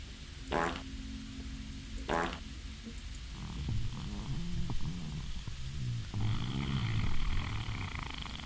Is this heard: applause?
no